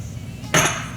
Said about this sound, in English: Then, because it's a volcano, you're gonna tap and make the volcano on the top.